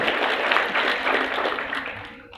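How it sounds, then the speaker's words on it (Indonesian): An audience applauds with dense, steady clapping that fades out over a couple of seconds. "Berikan tepuk tangan untuk Bapak dan Ibu semuanya."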